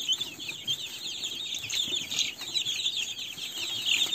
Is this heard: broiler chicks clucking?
yes